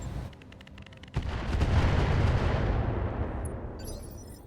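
Heavy mech weapons fire in the RogueTech battle game, a sharp blast followed by a long, loud rumbling barrage of booms and crackles that slowly fades, with no talking.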